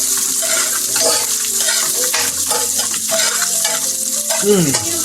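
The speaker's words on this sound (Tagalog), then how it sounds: "Pasok natin yung bawang para mag-iisa na ito." Garlic and onion fry in a pan for denuguan with a loud, steady sizzle, mixed with stirring and clattering, and water running briefly near the end.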